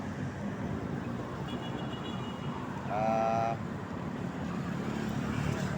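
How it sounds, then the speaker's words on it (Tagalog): Motorized fishing boats work the water near a bridge where fishermen are out, giving a faint, distant engine drone with a brief whining rise midway, under a steady outdoor background. "At ito yung mga bangkang motor."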